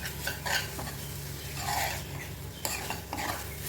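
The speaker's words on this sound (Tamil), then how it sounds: "அதனால் நல்லா ஃப்ரை பண்ணிக்கிறேன்." Egg fries in a pan with a soft continuous sizzle under repeated scraping and stirring of a utensil against the pan, no voices.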